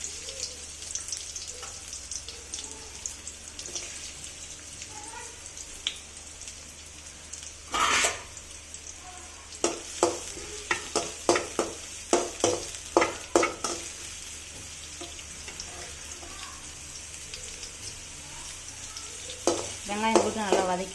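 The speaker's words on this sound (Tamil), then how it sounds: "வெங்காயம் போட்டு நல்லா வதக்கிறோம் ஃப்ரெண்ட்ஸ்." Onions sautéing in hot oil for a pasta dish, a continuous close sizzle and crackle with repeated scraping knocks of a spoon stirring against the pan.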